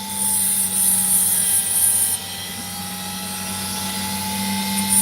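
A rough opal stone cut with a high-speed cutting tool: a continuous shrill whine like a dentist's drill over a steady mechanical hum, loud and close, dipping slightly partway through.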